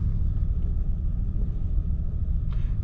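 A 1987 Ford Thunderbird engine idles steadily with a deep, low rumble, slightly uneven, running continuously throughout with a brief higher rattle near the end.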